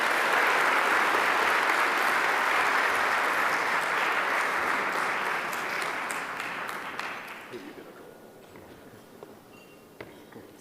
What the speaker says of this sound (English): Why don't you give Dr. Imtiaz Sooliman a huge round of applause.